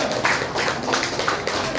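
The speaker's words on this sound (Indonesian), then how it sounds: "Beri tepuk tangan untuk kelompok 3." A classroom of students claps for a presenting group. The clapping is brief, dense and fairly close, a busy patter of many hands with no talk over it.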